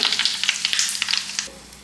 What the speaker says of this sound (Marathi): मोहरी थोडीशी तडतडायला सुरुवात झाली की अर्धा चमचा जिरे घालायचे